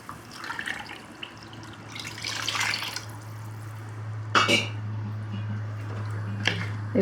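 About two cups of water pour into a pot of mushroom biryani with coconut milk, a close, steady splashing gush with a low hum underneath, broken by a couple of sharp wet splats.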